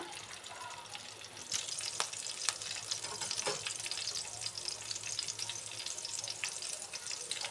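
Green chillies dropped into hot oil in a pan, a dense crackling sizzle with scattered sharp pops that swells after the first second and keeps going, close and fairly quiet.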